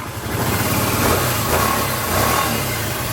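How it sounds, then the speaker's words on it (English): A 2012 Kawasaki Teryx LE Camo 4x4 with a fuel-injected engine cranks and starts, then runs loud and close with a steady throaty drone that swells slightly as it settles. "they're fuel injected, so you just turn the key and crank it up"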